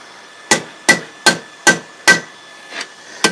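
Hammer blows on metal over a small step anvil while forging a bottle opener, five sharp ringing strikes at a steady rhythm, a softer one, then another, close and loud with no talk.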